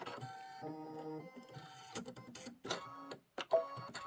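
Domestic sewing machine stitching, a steady mechanical whir with a humming motor tone that stops and restarts, then a few clicks and clunks, faint and close with no talk.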